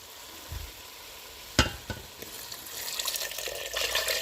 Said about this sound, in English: let's go ahead and get our broth in now